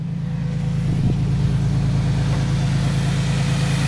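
A Dodge Intrepid with a 2.7 engine and cold air kit idles after a cold start. A loud, steady, low hum with a constant drone lasts the whole time, and a brief knock or thump comes near the start.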